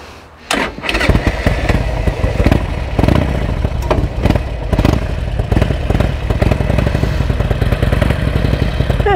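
A Harley-Davidson motorcycle engine fires up with a thump and settles into a loud, close, lumpy rumbling idle that continues steadily on a chilly late morning.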